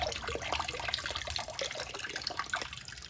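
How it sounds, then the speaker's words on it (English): Water pours and splashes onto potted phalaenopsis orchids, a close, continuous trickling and spattering with small drips, steady for a few seconds before easing slightly. "But I'm watering right now"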